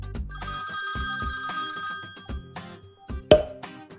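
An old-style telephone bell rings in a steady repeating pattern, loud and alone, over a few seconds with a brief clatter near the end.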